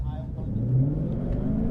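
A 2017 Ford Mustang GT Performance Pack with independent rear suspension accelerating on a track, its engine rising in a loud, steady pitch heard from inside the car while a person talks over it.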